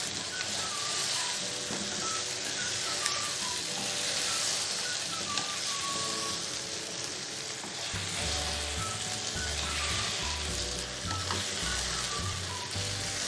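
Mixed vegetables (potato, cauliflower, peas and carrot) sizzling steadily in a pan while being stirred, with a continuous close frying hiss and occasional scraping from the spoon.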